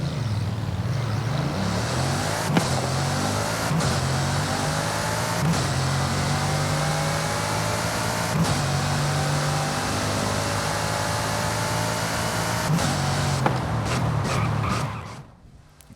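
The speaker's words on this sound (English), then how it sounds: "This thing has the same massive 8-litre quad turbocharged W16 that the two previous cars enjoyed. And goddamn does it sound incredible." A Bugatti's 8-litre quad-turbo W16 engine revs in the racing game Forza Horizon 5, with a deep, continuous roar and rising pitch sweeps through gear changes, plus sharp transient cracks. Near the end the sound cuts off abruptly.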